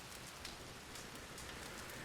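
Steady rain falls in Red Dead Redemption 2, a dense, even hiss of drops striking surfaces that continues without a break and with no voices over it.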